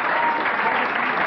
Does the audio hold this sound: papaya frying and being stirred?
no